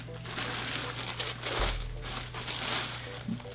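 White wrapping paper around a pair of Off-White sneakers crinkles and rustles steadily at close range, a soft continuous crumpling with no talk.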